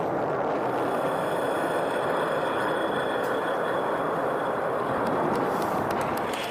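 A SpaceX rocket hovers with its main engine gimballing and cold gas thrusters firing, making a steady, dense, loud roar that holds unbroken throughout with no voices.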